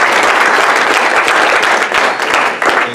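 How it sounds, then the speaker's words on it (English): Loud, dense audience applause for veterans fills a Veterans Day event at a high school, with sustained clapping from a large crowd throughout. "Give them a round of applause."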